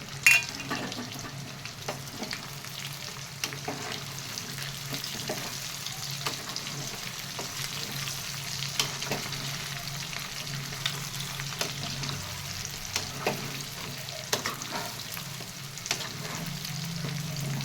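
Hotel-style chicken 65 fries in a pan with a steady, close hiss of hot oil, broken by scattered light clicks of stirring throughout, with no voices.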